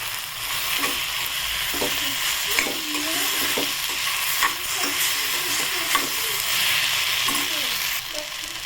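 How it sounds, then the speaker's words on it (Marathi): Brinjal is stir-fried in a pan for a spicy vangyache bharit, with a continuous close sizzle and frying hiss under repeated scraping strokes of the spatula, steady throughout without any talking. "आणि हे वांगं याच्यात परतून घ्यायचं"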